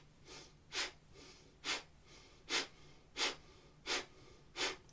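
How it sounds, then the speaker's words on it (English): Slow, steady breathing during an energy-folding exercise with fingers extended and eyes closed: about seven soft, even breaths, each a close airy rush in a regular rhythm, with no talk. "inhale up, exhale down"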